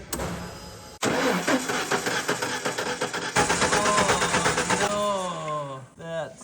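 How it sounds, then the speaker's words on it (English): A truck engine with a broken timing gear cranks over in a loud, steady, rough churn for several seconds, then cuts off abruptly near the end, followed by a brief voice. "now we're gonna crank it over and see if we can see our camshaft spinning"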